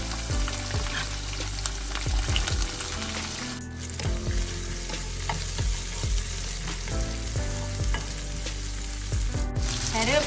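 Sliced onions fry in hot oil with fennel, cumin and fenugreek seeds, giving a loud, close, continuous sizzle with repeated spoon scrapes and clinks against the pan, and a brief dip partway through.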